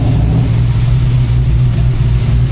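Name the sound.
LT5 engine with sequential gearbox revving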